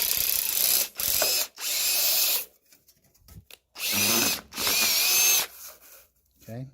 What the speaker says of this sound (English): we're going to take this hole and we're going to drill it out